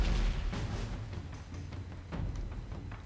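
Rumbling blasts and low booming explosions in the video game Uncharted 2: Among Thieves, a continuous heavy low-end roar with scattered sharper crackles, fairly loud and without speech.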